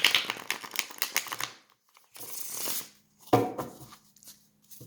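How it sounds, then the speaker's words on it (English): Tarot cards riffle and flutter in quick rustling bursts, close by, with short pauses and a soft slap between shuffles; no talking. "I love shuffling this deck. And I think part of it is the sound"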